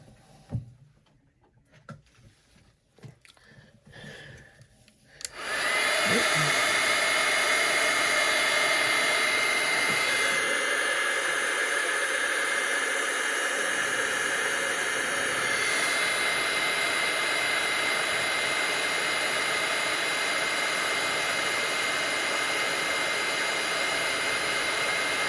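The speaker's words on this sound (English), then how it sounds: "I'm just going to grab my heat tool and we're going to heat this up" A heat tool blasts hot air over white embossing powder on a stamped card, with a loud, steady roaring whoosh that switches on after a few seconds of quiet handling noises and runs continuously to the end.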